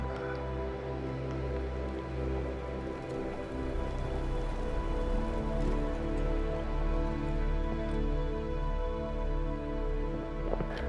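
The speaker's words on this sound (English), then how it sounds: "if it's going to be raining all day" Rain falling on a riverside campsite in the Yukon wilderness, a steady close patter over a constant drone and tonal hum, with no voices.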